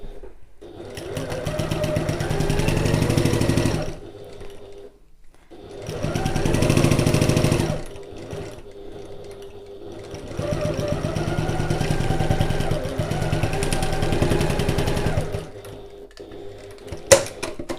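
A sewing machine stitches a fabric satchel in bursts, its motor humming in three or four runs of several seconds each, separated by brief pauses, close and clear with no talking.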